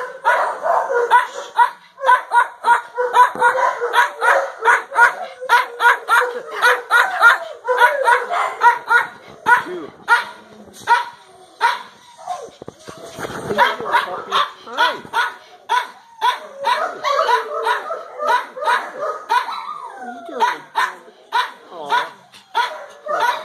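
Dogs bark repeatedly at an animal shelter, a dense, continuous chorus of close, loud yaps and barks from several animals filling the whole stretch.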